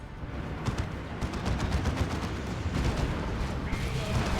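Gunfire and cannon shots from a 3v3 Warhammer 40,000: Dawn of War 2 battle, with plasma cannons, a chem cannon and a Bane Wolf in play, form a steady dense barrage throughout. A commentator talks over it.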